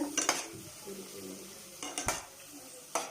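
Masala spice powders being mixed in a pot for fried chicken biryani, with a few metallic spoon clinks and scrapes against the pot over a faint sizzle, quiet and close, in short separate bursts.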